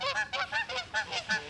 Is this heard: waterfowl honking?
yes